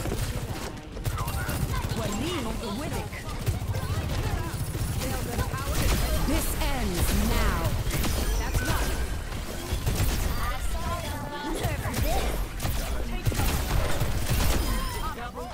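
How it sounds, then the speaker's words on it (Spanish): Rapid machine-gun fire from Sojourn's secondary fire in the Overwatch video game crackles in dense bursts throughout, mixed with explosions, impacts and game effects, steady and loud from start to finish. "El disparo de ametralladora spamea mucho ahora"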